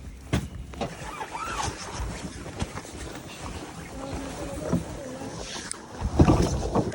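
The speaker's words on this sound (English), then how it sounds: "We're kayaking in to get the receiver, then we'll kayak out" Kayak paddles dip and pull through water as a researcher paddles in, giving irregular splashes and sloshing close by against a noisy outdoor background, with a bigger splash near the end.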